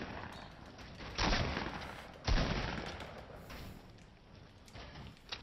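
Two sharp, loud sniper rifle shots ring out in a Fortnite match, each a sudden blast with a decaying tail, spaced about a second apart, with smaller game sounds after and no talk.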